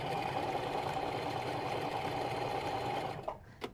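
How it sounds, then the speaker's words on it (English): A Singer 4452 heavy duty sewing machine stitches fabric in a steady, fast, continuous whir that holds level for several seconds, then stops, leaving a couple of brief knocks and handling sounds. "You don't have to do that with our Singer heavy duty machines"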